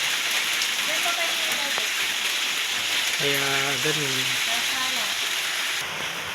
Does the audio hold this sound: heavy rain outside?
yes